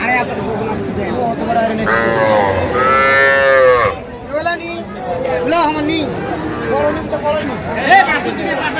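Young bulls and heifers mooing at a rural cattle market in Dinajpur, several loud, drawn-out calls close by over a busy crowd hubbub, with people bargaining and talking throughout.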